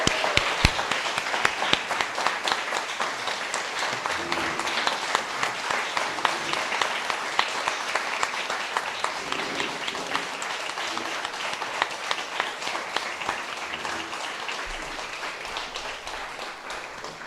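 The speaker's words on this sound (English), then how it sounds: "I think we need to give her some additional clapping here" Steady applause from a crowd at a college science complex ribbon cutting ceremony, dense sustained clapping throughout with no talk over it.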